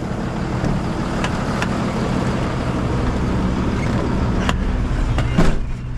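A 2014 Freightliner M2 106 box truck drives along. Its engine and road noise make a steady, loud rumble heard from inside the cab, with a few faint clicks and knocks.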